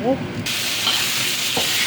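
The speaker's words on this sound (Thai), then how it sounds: "แล้วเราก็เอาหมูที่เราหั่นเตรียมไว้นะคะ ผัดให้เข้ากัน" Pork frying in a pan with pounded garlic and lemongrass, giving a steady close sizzle with a brief stirring scrape and occasional clatter, heard alone without voices.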